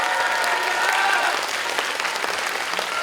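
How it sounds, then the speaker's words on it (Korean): An audience at a high school admissions information session in Seoul applauds to welcome the principal, a steady wash of many hands clapping together at an even, moderate loudness throughout. "박수로 모시면서 인사 말씀"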